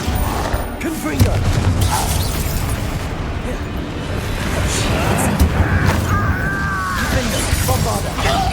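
Repeated Confringo spell blasts in Hogwarts Legacy, shattering bursts and booms piling up over a loud, steady battle wash, with magical whooshes and ringing tones breaking through near the end.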